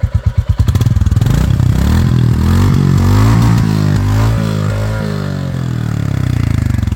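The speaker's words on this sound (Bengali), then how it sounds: "তো চলেন আপনাকে সাইলেন্সের আওয়াজটা একটু শোনাই আমি।" A 2025 Royal Enfield Classic 350 exhaust starts with a few loud thumps, then settles into a deep, heavy idle thump that swells into a revving rise and falls back, close and loud.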